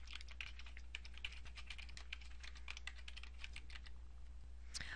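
Keystrokes on a computer keyboard as a date is entered into an online form: a steady, rapid run of close, crisp taps with no talk, over a low constant hum.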